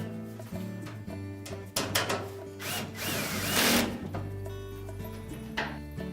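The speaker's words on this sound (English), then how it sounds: "Make sure we line up the back panel across the top first and secure it with screws on either side." A power drill drives screws into the back panel of a Frigidaire washer, several short whirring bursts sounding close up against faint workshop noise.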